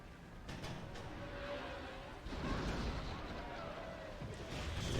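Ship cannons fire in a naval battle in Sid Meier's Pirates!, a few muffled booms and crashes over a steady low rumble, fairly quiet, with a faint voice in the background.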